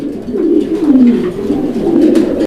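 Lahori pigeons coo up close and loudly, with a continuous, rolling series of low, throaty coos throughout.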